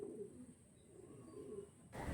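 Pulsar-breed pigeon cooing softly in a low, steady murmur that runs for about two seconds, with no voices, before a brief louder rustle at the very end.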